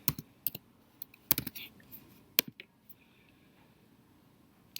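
Library number and password typed on a computer keyboard: scattered bursts of sharp, close key clicks with short pauses between them, fading to quiet near the end.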